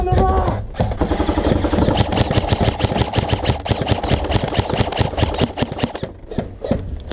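Rapid bursts of airsoft gunfire crackle through an outdoor skirmish, dense and continuous with sharp repeated pops, close and loud, with brief pauses between volleys.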